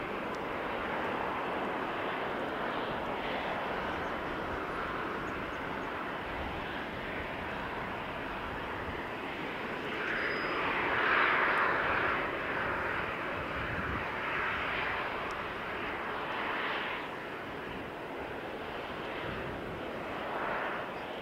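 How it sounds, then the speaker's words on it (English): A Thai Airways Airbus A350 takes off from Sydney, heard as a broad, steady jet roar from a distance that swells briefly midway before settling back, with no speech. "So this is Thai Airways taking off from Sydney, this A350."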